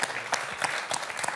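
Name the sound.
studio audience applauding a game show champion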